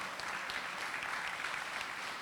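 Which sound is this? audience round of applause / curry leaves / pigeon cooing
audience round of applause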